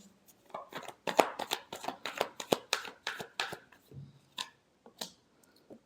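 Tarot cards being shuffled during a fortune reading: a close, rhythmic run of about a dozen crisp riffles and taps, with a few softer slaps at the end and no voices.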